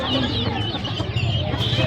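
Guinea fowl and other poultry at a busy bird market in Uluberia, chattering and clucking steadily and close by amid a dense crowd murmur, with people talking throughout.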